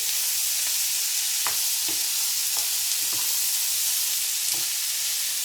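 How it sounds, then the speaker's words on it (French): Chickpeas and chorizo fry in a pan under a constant bright sizzle, with a handful of soft scrapes and knocks from a spoon stirring them, close and even, no voices. "Je vais ajouter mes pois chiches. Et je mélange bien à nouveau."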